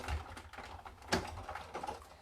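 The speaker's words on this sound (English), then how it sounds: "just running that through the big shot" A manual Big Shot die-cutting machine is cranked to press framelit dies through cardstock for a Stampin' Up card, giving quiet clicking and crunching with one sharper snap midway.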